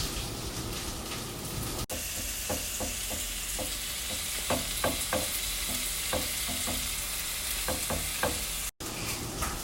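Cabbage cooking in a pan, a continuous steady sizzle with repeated soft scraping and stirring taps of a utensil, close by and without talk.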